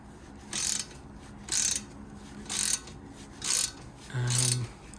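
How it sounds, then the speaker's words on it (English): A 7mm Allen key working the caliper bolts on a Mini Cooper R50 front brake: five evenly spaced bursts of metallic ratcheting clicks, close and fairly quiet, with faint rustling between them. "with a 7mm Allen key, we can undo the bolts that are in here that hold the caliper in place."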